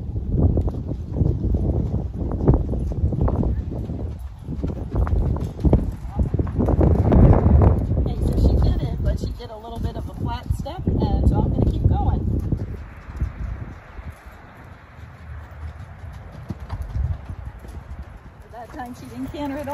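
Tennessee Walking Horse ridden outdoors, hooves clip-clopping in an uneven rhythm, fairly close, with wind noise across the microphone and some rustling.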